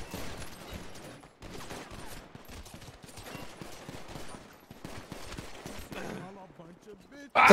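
Rapid gunfire in GTA NoPixel roleplay, sustained bursts of shots crackling continuously at moderate distance, with a loud sharp burst at the very end.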